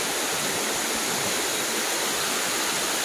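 A river rushes past in a constant, full torrent, loud and close, a broad unbroken wash of flowing water with no talk over it.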